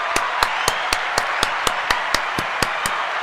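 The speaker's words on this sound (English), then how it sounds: "One more round of applause." A single person's slow, steady hand claps, about a dozen evenly spaced sharp slaps, close and fairly loud over a faint background hiss, offered as a round of applause.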